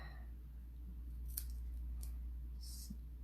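Scissors snip through cardstock at a craft table, a few quick isolated cuts heard faintly over a steady low hum.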